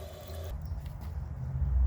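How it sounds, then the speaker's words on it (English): A 1998 Western Pottery Clinton toilet flushes with a dry bowl, a sudden rushing surge of water starting partway in and building into a steady low churning roar, close and without talk. "For the first flush test, let's see how it flushes with a dry bowl."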